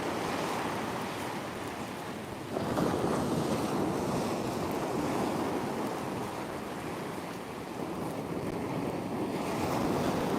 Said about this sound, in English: you can probably hear on the mic these big old waves that are crashing in